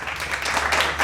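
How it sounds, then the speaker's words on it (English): Warm round of applause from a live audience welcoming a guest, a steady wash of clapping filling the whole short moment at moderate loudness. "give a nice warm round of applause for my good friend, Mr. Sean Venata."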